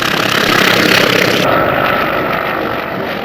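A vintage warbird's propeller engine drones loudly and steadily overhead at an air show in Wanaka, New Zealand, its tone shifting slightly as it passes.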